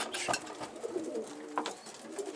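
Pigeons coo in a coop in soft, repeated low warbles, close and moderately loud, with scattered rustling between the calls.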